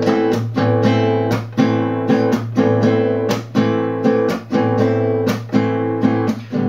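Acoustic guitar strums a folk rhythm with the outer edge of the picking hand muting the strings just in front of the bridge, giving short, choppy, dampened chords in a steady pattern, close and alone.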